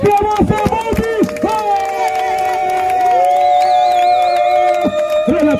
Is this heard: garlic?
no